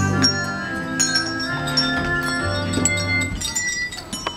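Many small hand bells jingle and ring at once, bright and overlapping, with scattered clinks and shakes throughout, no voices.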